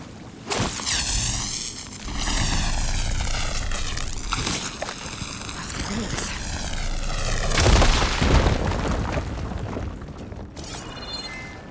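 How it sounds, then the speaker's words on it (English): A fire gleam blown up in Horizon Forbidden West, a deep booming blast with roaring, rumbling fire that sweeps and swells across several seconds before dying into a crackling tail. "Should be able to blow up that fire gleam."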